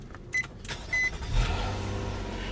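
A 2017 Nissan Maxima Platinum's 3.5-liter V6 engine turns over and catches, settling into a steady idle rumble after a few brief electronic chimes.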